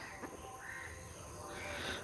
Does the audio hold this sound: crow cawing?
yes